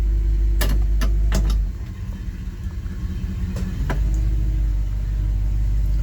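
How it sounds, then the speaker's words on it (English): A 1962 Chevrolet Impala runs in a driveway on a hot day after a cold start, its steady low engine rumble broken by a few sharp clicks and a brief dip in level. "roll it out here in the driveway and let it run for a few minutes."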